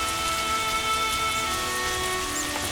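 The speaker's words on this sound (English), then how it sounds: "What a downpour." A heavy rain downpour falls in the Temple Quarter of Vizima in The Witcher video game, a dense, continuous hiss of rain on surfaces that stays steady and fairly loud throughout, with no voices.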